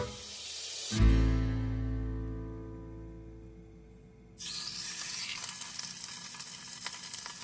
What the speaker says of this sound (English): We want to put a good hard sear on these beef cheeks.